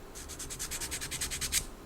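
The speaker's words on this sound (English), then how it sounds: "we can just give this a nice bit of a sand as well" Sanding a plastic part of a 1/48 scale Great Wall Hobby F-15C Eagle MSIP II model gives about a dozen quick, even rasping strokes, close and quiet, with no talk.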